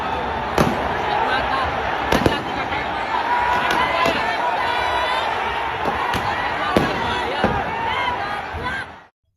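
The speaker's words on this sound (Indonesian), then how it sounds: "Ada 11 tembakan dilakukan Brimob pada fase awal ini." Several sharp, loud pops of police tear gas launchers ring out at irregular intervals over a noisy stadium crowd with shouting, each shot a sudden crack cutting through the din.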